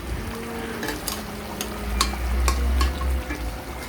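Taro stolons, already boiled, going into a hot pan with dried fish and potato, a soft sizzle rising as they are stirred, with a few clinks of a utensil against the pan and no voices.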